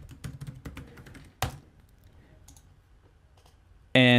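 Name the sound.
typing a wallet password on a computer keyboard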